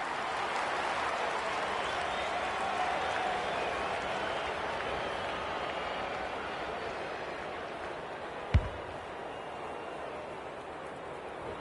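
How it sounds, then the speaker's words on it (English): A large stadium crowd roars after a goal in the AFL 26 football video game, a broad, steady wash of cheering that holds loud throughout, with a single brief thud near the end. "The crowd noise tells you all you need to know."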